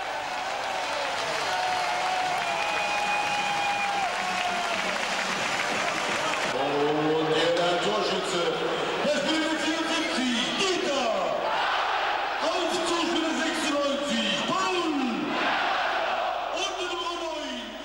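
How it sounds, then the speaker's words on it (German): Ice hockey fans in a packed arena roar and cheer after a goal in a 1996-97 German league game between Adler Mannheim and the Eisbären. Loud, sustained crowd noise with whoops and shouts, and chanting swells midway. "Als die Fans noch am Jubeln sind"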